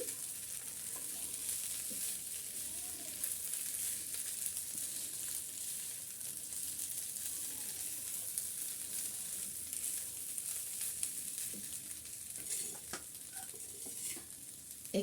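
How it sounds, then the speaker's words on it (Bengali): Fried cauliflower and potatoes are stirred through a frying pulao in oil, producing a steady sizzle with scraping, rustling stirring throughout. "এখন এখানে যে ফুলকপি আর আলুগুলো আমি তেলে ভেজে রেখেছিলাম সেই ভাজাগুলো দিয়ে দিচ্ছি আর এখন এর সাথে আমি মিক্স করে নিচ্ছি"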